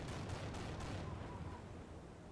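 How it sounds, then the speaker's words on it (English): A Panther tank's main gun fires in a World War II video game battle, a heavy booming blast with rumbling echoes that fade over about two seconds, fairly loud and close. "the Panther shoots the ground in front of it"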